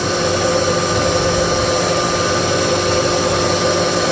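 A new Bridgeport milling machine runs on a first milling job, giving a loud, steady mechanical whir with an even, unbroken hum and a dense hiss throughout, with no talking.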